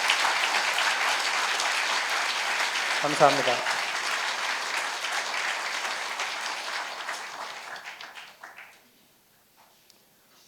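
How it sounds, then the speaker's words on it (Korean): A church congregation at a Korean Presbyterian ordination thanksgiving service claps loudly and steadily for several seconds, then the applause thins and fades out; a voice speaks briefly over it near the start. "힘찬 격려의 박수 부탁드립니다"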